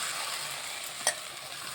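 Fried potatoes and raw jackfruit are stirred into sizzling masala in a pan, a soft continuous frying hiss with a single sharp spoon scrape, quiet and close.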